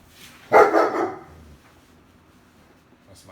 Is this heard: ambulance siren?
no